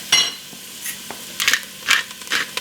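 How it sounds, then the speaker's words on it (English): Spices such as oregano, cumin and chili powder are stirred into food in a pan, with a few close scraping and clinking strokes of a utensil over a soft sizzle. "I'm going to give that all a good stir"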